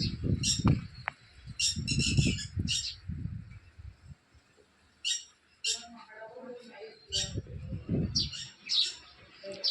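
Sparrows chirp at their nest on a village house, giving bursts of short, bright tweets that come and go over several seconds, with low, muffled voices and rumbles underneath.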